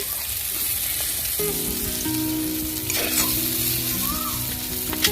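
Greens and potatoes frying in a pan, with a continuous close sizzle and some stirring, plus faint tonal background sounds and no speech.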